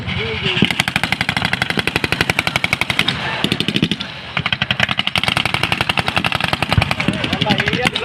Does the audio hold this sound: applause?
no